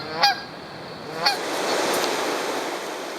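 Geese along the Potomac River honk in two sharp, loud calls about a second apart, followed by a softer, continuous wash of distant flock noise and outdoor ambience.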